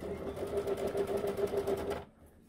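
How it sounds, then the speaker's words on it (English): A sewing machine stitches the cuff of a silicone oven mitt with a rapid, steady mechanical whir for about two seconds, then stops abruptly. "And so you got to kind of fight with it until it gets flat and then sew it."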